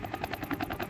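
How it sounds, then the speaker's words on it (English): Military helicopter flying low over Moscow hunting drones, a close, loud rapid rotor chop with even pulsing beats throughout, no voices. "Helicopters are deployed to hunt for drones that fly too low for traditional air defense radar systems."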